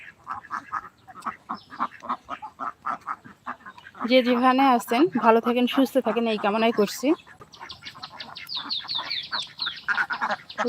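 Ducks on a duck farm on a rainy day quack in a loud, dense burst midway, with a voice talking before and after them.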